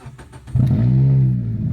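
A car engine revs through a loud aftermarket exhaust, a short, deep blat that swells suddenly and holds with a rumbling drone, close and loud after a few quieter knocks.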